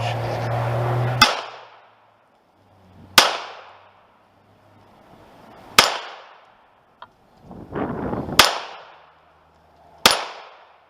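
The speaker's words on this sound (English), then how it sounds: "Alright, 24 rounds, 0 malfunctions from a Polish P64" Five sharp gunshots from a Polish P64 pistol fired outdoors at irregular intervals, each loud and close with a decaying echo tail, plus a faint click between shots.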